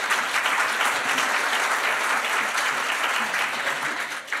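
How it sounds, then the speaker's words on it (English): A crowd claps steadily in sustained applause at a symposium, dense and fairly close, holding at an even level before tapering slightly at the end. "would you give them all a round of applause"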